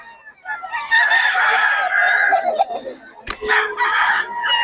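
Roosters in Bocaue: one crows loudly and long, with another crow following after a brief pause, close by.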